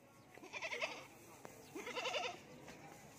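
Goats bleat on a goat farm, two drawn-out calls close by with a pause between, over faint background noise and soft voices.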